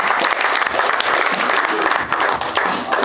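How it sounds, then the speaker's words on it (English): Audience at a live event bursting into loud, dense applause and cheering as a performer is called up, sustained clapping filling the whole moment. "Y'all make some noise for Mr. Reynaldo Kite."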